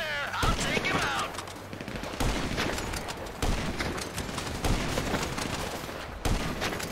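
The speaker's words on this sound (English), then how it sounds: "Sniper fire!" Repeated sniper and rifle gunfire in a Grand Theft Auto V shootout: sharp cracks arrive in an irregular volley, some spaced apart and some in quick bursts, with steady background noise throughout.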